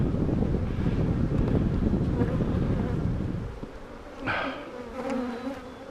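Honeybees buzz around an open nuc hive during installation, a dense close drone muddied by wind on the microphone, then thinner passing buzzes of individual bees near the end.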